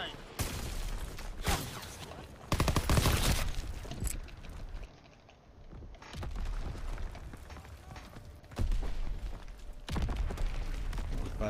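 PPSh submachine gun fire in Call of Duty 2, several loud bursts of rapid shots with explosions among them and a player talking throughout.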